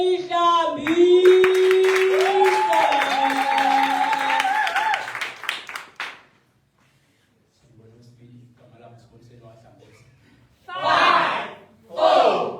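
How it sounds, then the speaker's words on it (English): A crowd at a live poetry slam show lets out loud ululating cries over rapid clapping, then falls nearly silent before short bursts of cheering and applause return near the end. "a round of applause for Sponi Senishambi"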